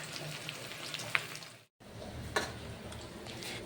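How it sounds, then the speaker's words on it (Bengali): Onions fry in oil in a pan with a steady, fairly quiet sizzle, broken by a couple of sharp clicks and a brief dropout near the middle. "তেলের মধ্যে আমি পেঁয়াজ দিয়ে দিয়েছি"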